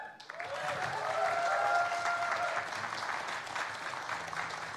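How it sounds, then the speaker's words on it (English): Steady, full applause fills a hall for a graduate music recital by a large band, with a few whistles rising above the clapping. The sound stays close and strong throughout, without speech. "A mighty round of applause"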